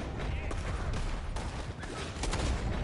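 Rapid gunfire fills the whole moment, dense overlapping shots with a few sharper cracks standing out, loud and close.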